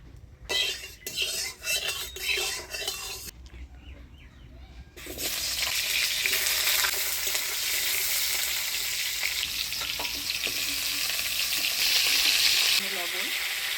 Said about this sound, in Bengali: এবার হলুদ লবণ দিয়ে আলু ফুলকপিটা ভাজে নিব।